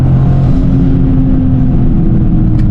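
A Toyota GR Corolla with all-wheel drive accelerates at full throttle, its engine droning loud and close in a steady, gritty roar heard from inside the car, with no talking.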